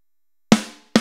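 A snare drum from a VST drum kit in Studio One cracks once with a sharp, ringing body that fades over a few tenths of a second, followed by the start of a second hit, heard alone.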